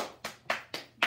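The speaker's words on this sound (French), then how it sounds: "On l'applaudit." Four distinct hand claps, evenly spaced and close, from one person applauding Gigi au grand cœur during a live broadcast, crisp and alone without speech.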